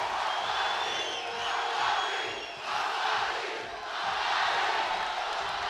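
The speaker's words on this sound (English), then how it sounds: "The electricity going through this crowd right now is palpable" Loud, sustained crowd cheering and roaring fills a women's FIBA 3x3 World Cup semi-final between Mongolia and Poland, swelling and dipping in waves throughout without pause.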